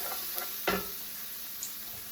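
A vegetarian dish is stirred in a hot pan, with a soft, steady sizzle under a few brief scraping strokes of the spoon. No one talks.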